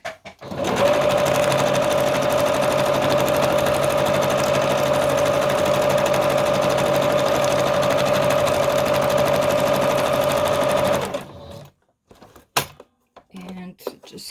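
A sewing machine runs steadily for about eleven seconds while stitching a fabric collage in a home workshop, loud and close, then stops, followed by a few short clicks and handling noises.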